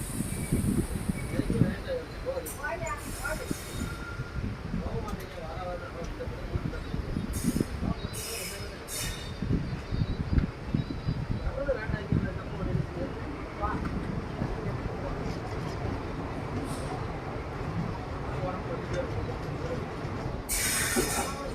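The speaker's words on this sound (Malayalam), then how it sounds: "നമ്മുടെ ട്രെയിൻ എങ്ങനെ ഇതാ വിരുദുനഗർ ജംഗ്ഷൻ റെയിൽവേ സ്റ്റേഷനിലേക്കാണ് ഇപ്പോൾ ഇതാ എത്തിയിട്ടുള്ളത്" A passenger train pulls into Virudhunagar Junction, its rumbling wheels and carriage clatter continuous from on board, with occasional high squeals and people talking over the noise.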